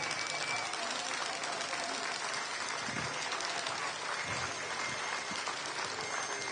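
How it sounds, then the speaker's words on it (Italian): Crowd applause in a city piazza at a CGIL union rally against labour exploitation. It is a steady, dense, somewhat distant wash of clapping that lasts the whole time without pause. "desse un saluto, un applauso."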